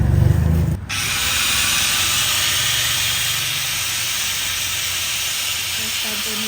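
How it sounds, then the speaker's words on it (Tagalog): Angle grinder cutting metal, a loud, close, sustained high-pitched hiss and whine after a short opening burst, running steadily to the end without talk. "First time po ni daddy ito, yung grinder"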